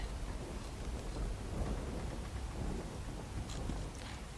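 Heavy rain in Aravalli district, Gujarat falls in a continuous wash while low thunder rumbles underneath, swelling slightly midway; no one speaks.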